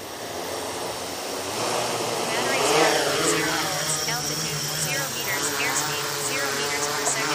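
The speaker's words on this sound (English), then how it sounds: "I have armed and going to take off the drone." An APM 2.8 quadcopter drone spins up and lifts off, its motors rising into a steady whirring buzz with wavering pitch, fairly close, while someone talks over it.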